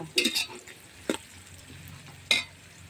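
Onions fry in a pan over a wood-fired stove while a spoon stirs them in three quick scraping strokes, over a low, steady sizzle.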